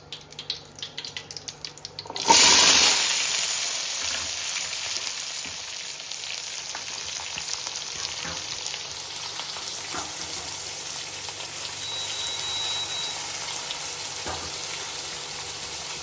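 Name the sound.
onions and shallots frying in oil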